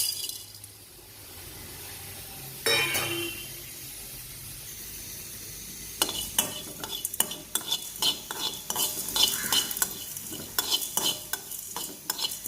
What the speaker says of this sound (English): first I am going to dry roast it.